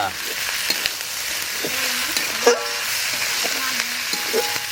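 Freshly ground spice paste of chilli, cumin, ginger and garlic sizzles steadily in a pan for a red country chicken curry. A spoon stirs it now and then, and faint voices are heard in the background.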